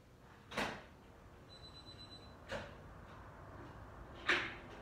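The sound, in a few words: door being opened and closed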